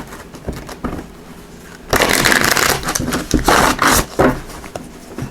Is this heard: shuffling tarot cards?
yes